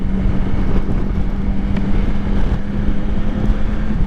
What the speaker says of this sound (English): The sound this engine makes.